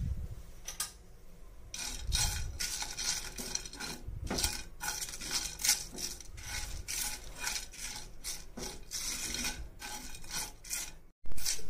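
Black pepper, cloves, cardamom and cinnamon dry-roast in a pan, with a spoon scraping and rasping against the metal in repeated close strokes, small clinks and rattles in between, ending in a brief pause and a louder clatter.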